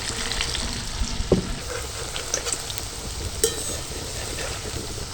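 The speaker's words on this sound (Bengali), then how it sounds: "তেল যেমন মাঝারি আমরা গরম করি সেরকম করে ভাজতে হবে।" Flour fritters frying in medium-hot oil, a steady close sizzle and crackle throughout, with a few sharper pops and stirring clicks along the way.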